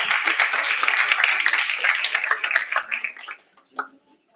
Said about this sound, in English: big round of applause for our main sponsor for our event